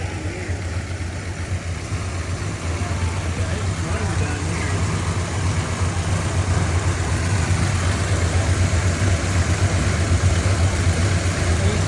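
A Pontiac GTO engine idles steadily at close range, a low continuous rumble with a faint accessory rattling buzz on top, rising slightly in level partway through.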